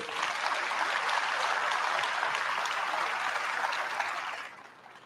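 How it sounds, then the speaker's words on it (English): Sustained applause from an audience at a high school National Honor Society induction ceremony, honoring senior members; dense, steady clapping fills the room for about four seconds, then fades quickly. "Let's give another round of applause for our senior members."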